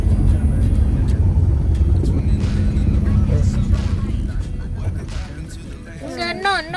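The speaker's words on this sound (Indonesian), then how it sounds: "Mulai tancap gas lagi sampai atas." A vehicle climbing a steep hill road lined with pine trees at Bukit Cirimpak, engine droning loud and steady at close range, easing off slightly toward the end as another voice-like tone and chatter appear.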